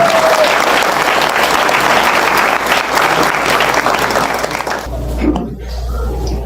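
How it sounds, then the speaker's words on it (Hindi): Loud, dense audience applause rolls through a large hall during a Paryushan stage program, sustained for several seconds before thinning out as a low hum and some scattered sounds remain. "एक बार अंकल के लिए जोरदार तालियां।"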